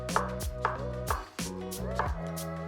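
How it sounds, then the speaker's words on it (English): A knife chops vegetables on a board with five or six sharp, evenly spaced strikes, close and crisp, with a hum of background music and no talk. "yeah, just chopping"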